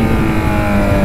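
A Kawasaki Z1000 motorcycle screams at full throttle in first gear, a loud, steady engine roar held close to the listener for the whole moment.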